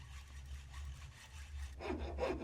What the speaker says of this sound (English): so now we have sounds of sawing